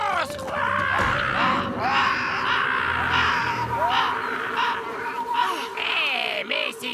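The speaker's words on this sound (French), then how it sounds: "Convaincre cet affreux corbeau et ses amis bruyants de s'éloigner de mon nid." Cartoon crows in the Yakari animated series caw harshly and repeatedly, several birds squawking together in a loud, continuous chorus mixed with other noisy animated sound effects.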